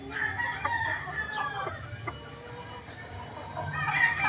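A pumpkin hatch gamefowl rooster clucking and crowing nearby, repeated clucks and a drawn-out crow over steady outdoor background noise.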